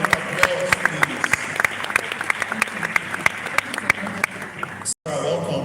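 Audience applause at a Lagos business event, dense steady clapping from a large crowd with some voices mixed in, ending in a brief abrupt cut before the clapping resumes.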